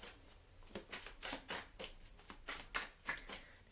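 Close, quiet riffling of a deck of tarot cards, with repeated crisp bursts at an uneven rhythm as the cards are shuffled.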